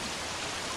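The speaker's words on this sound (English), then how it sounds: "That sounds like a waterfall. Or at least some raging rapids." Steady broadband rush of a waterfall in a cave setting from the game The Cave, dense and continuous, close and fairly loud with no voices.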